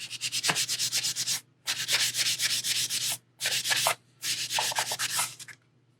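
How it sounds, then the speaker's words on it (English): Primer being sanded off a quarter-scale Deadpool figure, heard as four steady bursts of close, dry rubbing with short silent pauses between them and no talking. "just sand until the primer's gone"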